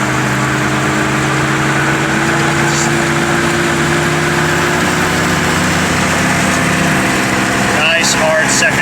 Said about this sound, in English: Nice hard second to third shift.